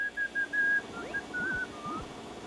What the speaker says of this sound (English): Get to have a little whistle.